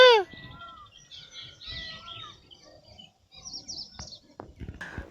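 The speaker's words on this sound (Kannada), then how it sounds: "ಸೊ ಈ ಥರ ತುಂಬ ನವಿಲುಗಳು ನಮ್ಮ ಊರಲ್ಲಿದೆ" A peacock gives one loud, close call with a falling tone at the very start in a village. Fainter bird chirps and soft rustling follow over a quiet background.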